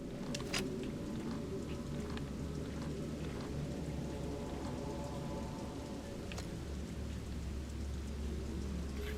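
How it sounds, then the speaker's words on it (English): Faint rain patters steadily against a window in the video game Fatal Frame: Maiden of Black Water, a soft continuous hiss with a few sharper drop ticks. "Sound of raindrops on the window echoes faintly."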